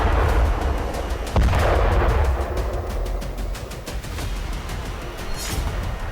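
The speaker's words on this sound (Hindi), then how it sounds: "आईडीएफ ने बारूद बरसाकर 8 से ज्यादा इमारतें जमींदोज कर दी" Explosions from bombardment destroying buildings in southern Lebanon: loud, continuous rumbling blasts with sharp cracking bursts throughout, distant and heavy, no voices.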